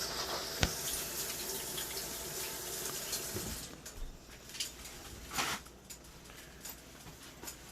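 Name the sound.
washing hands under a running kitchen tap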